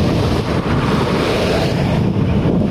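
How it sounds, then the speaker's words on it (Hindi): Sea waves wash onto the shore where boats are out on the water, heard as a loud, continuous roar of surf mixed with strong wind buffeting the microphone, with no talking. "ये देख सकते हैं गाइस लहरें"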